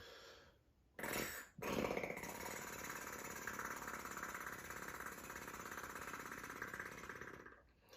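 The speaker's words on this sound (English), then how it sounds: "So lip trills is essentially just blowing air within your lips." A person performs a lip trill, blowing air through loosely closed lips in a vocal warm-up; a brief burst comes first, then a steady fluttering buzz holds close and fairly loud for about six seconds before stopping.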